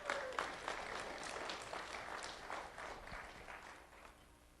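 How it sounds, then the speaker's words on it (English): A room of people gives a round of applause for an elementary student at a recognition event, a steady moderate wash of many hands clapping that slowly fades toward the end. "Let's have a round of applause for Sydney Mcconnell."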